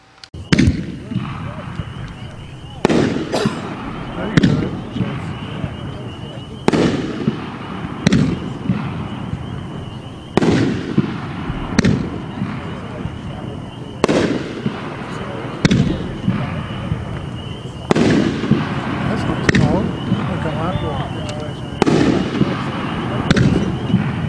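Winda 3-inch Jellyfish Aquarium fireworks cake firing nine shots outdoors, sharp booming launches and bursts spaced a couple of seconds apart, each trailing a crackling tail, with occasional voices between.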